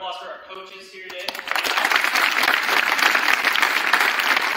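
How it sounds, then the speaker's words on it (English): Applause for the coaches at a National Signing Day event swells after a voice and fills the room with steady, dense clapping from the crowd. "Let's give a round of applause for our coaches here today."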